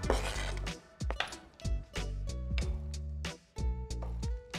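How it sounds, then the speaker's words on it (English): A knife chops ingredients for crab rangoon dip on a kitchen board: a handful of crisp, close strikes at uneven intervals, with background music underneath. "we're just going to chop it up"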